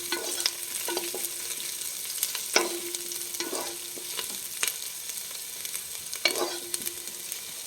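Onions for a roasted-coconut chicken curry fry in a pan, a soft continuous sizzle broken by intermittent scraping strokes of a spoon as they are stirred, fairly quiet and close, without talk.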